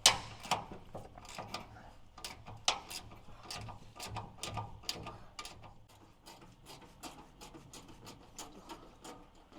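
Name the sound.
ratchet undoing 10 millimeter parking brake line bolts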